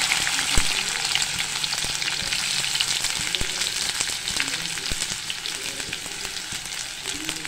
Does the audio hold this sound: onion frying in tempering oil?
yes